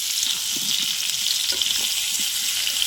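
A dense, even sizzle of small potatoes frying in oil in a kadai, with faint popping scattered through the steady crackle and no voices.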